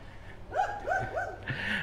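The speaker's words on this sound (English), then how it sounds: "there's this cute doggy over there in the doorway" A dog in a doorway gives a few short, faint barks and yips at a distance, with light background noise.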